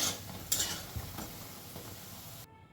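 Lentil fritters (bora) fry in hot oil with a steady hiss, while a spoon or spatula clatters against the pan a few times before the sound suddenly stops.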